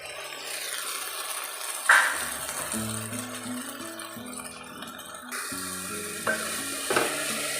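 Shawarma cutlet mixture with mayonnaise sauce being stirred and sautéed in a pan, a steady sizzle under scraping spoon strokes and occasional clinks, with low tonal background music throughout.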